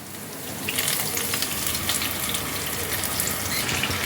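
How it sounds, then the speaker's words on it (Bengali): Spice paste goes into hot oil with ginger while cooking Bengali doi potol, bursting into a loud, steady close-up sizzle and hiss that holds for several seconds with no talking. "এবার আমি এর মধ্যে দিয়ে দেব তৈরি করে রাখা মশলার পেস্টটা।"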